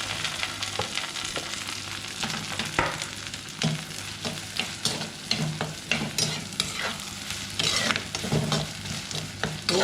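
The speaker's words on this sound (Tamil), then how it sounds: "வெங்காயம் வந்து நல்லா பொன்னிறமாக சிவக்கிற வரைக்கும் நல்லா வதக்கணும்." Sliced onions and curry leaves sautéing in hot oil, with a continuous sizzle broken by repeated clattering scrapes of a spoon stirring the pan, close up and without talk.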